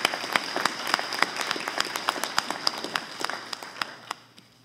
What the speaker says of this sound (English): let's give that group a big round of applause